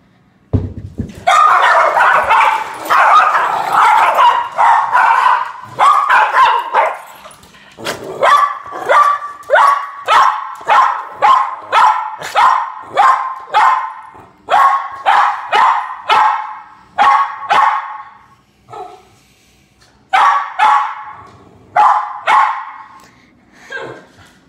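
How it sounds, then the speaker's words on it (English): Small dogs bark loudly and close by in a long burst of sharp, high yaps, coming rapidly at first and then in a steady, repeated rhythm with brief pauses, with no talking. "So here the dog goes."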